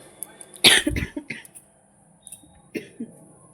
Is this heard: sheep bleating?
no